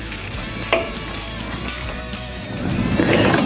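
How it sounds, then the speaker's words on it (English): A small fill plug is screwed back into the differential of a Traxxas Stampede RC truck, giving close, repeated ratcheting clicks in short bursts, followed by a rougher scraping rustle. "I'm going to go ahead and put the fill plug back in"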